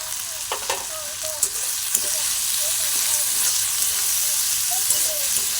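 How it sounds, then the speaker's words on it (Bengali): Maggi noodles with chili and turmeric powder stirred in a hot pan: a steady close sizzle of frying, broken by repeated soft scraping strokes of a spatula across the pan, with no talking. "দেখো ভালো করে নাড়িয়ে নিতে হবে এইভাবে"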